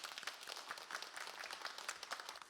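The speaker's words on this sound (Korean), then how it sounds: "우리 박수로 한번 격려하겠습니다" Quiet applause from a church congregation honoring an award winner, a faint, uneven patter of scattered hand claps heard from some distance.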